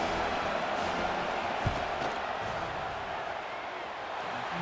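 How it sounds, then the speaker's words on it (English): A stadium crowd in the NCAA 26 college football video game roars steadily during a field goal attempt, a dense, continuous wash of cheering and yelling that fills the whole span without a break. "This crowd trying to do its part to get inside the kicker's head."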